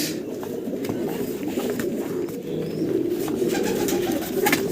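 Pigeons coo steadily in low, throaty murmurs close by inside a carton, overlapping with a faint background hum and no talking.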